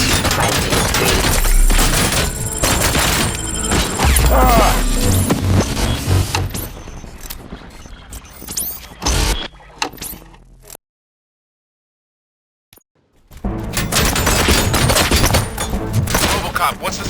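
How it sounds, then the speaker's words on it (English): Dense bursts of rapid gunfire and heavy booms in a battle in the video game RoboCop: Rogue City, cutting off abruptly into a few seconds of silence before the loud barrage resumes. "Gunshots? What's going on?"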